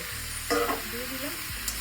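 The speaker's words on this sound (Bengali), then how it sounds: "এই ম্যারিনেশন করা চিকেনটা আমি দিয়ে দিলাম।" Marinated chicken for a stew is dropped into a hot pan and stirred, giving a steady soft sizzle that runs under a brief louder burst of frying and scraping, with no talk.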